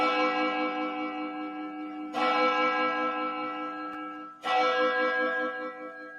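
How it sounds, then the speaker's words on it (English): A church bell strikes three times at a slow, even pace, each loud ringing blow hanging and fading with a long shimmering tail before the next, with nothing else around it. "Can we drop a church bell for this young boy, please?"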